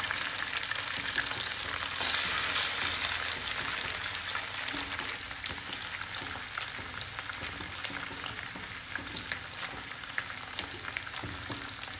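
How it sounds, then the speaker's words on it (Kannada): Mackerel coated in masala frying in a pan, a steady, dense sizzle with crackling spatter running the whole time, close and fairly loud, with no voices. "ನಾನಿಲ್ಲಿ ತಕ್ಷಣನೇ ಫ್ರೈ ಮಾಡ್ತಿದ್ದೇನೆ, ಮ್ಯಾರಿನೇಟ್ ಮಾಡಿ ಇಡುವುದಿಲ್ಲ"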